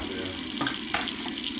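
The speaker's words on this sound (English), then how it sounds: "I like to run fresh water through it every once in a while just to clean the salt gunk off of it" Fresh water runs steadily through a part from a Red Sea Reefer 250 reef aquarium to rinse off salt deposits, a quiet, continuous faucet-like trickle and splash with no voices.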